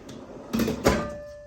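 A Milwaukee tool box drawer slides open in a quiet workshop, giving two short close scraping rolls, the second a little louder and ending in a brief ringing tail.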